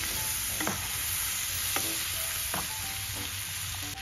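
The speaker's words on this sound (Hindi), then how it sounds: "अब हम लोग डालेंगे अनियंस" Onions fry in a hot pan for a red cheesy pasta, a constant bright sizzle broken by several light stirring clinks and scrapes spaced through the few seconds.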